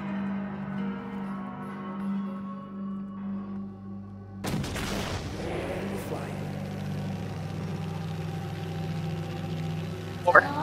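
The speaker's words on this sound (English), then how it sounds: "Flashbang." A flashbang grenade goes off in the horror stealth game The Blackout Club as a sudden sharp bang, then a ringing, noisy wash that lingers for several seconds over a low in-game hum.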